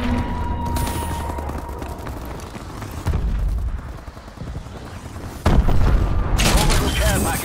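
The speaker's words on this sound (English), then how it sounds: "Enemy missile strikes." Missile strike explosions from Call of Duty: Advanced Warfare land as loud, booming blasts at about 3 and 5.5 seconds, set among steady gunfire and game noise, with voice chatter in the mix.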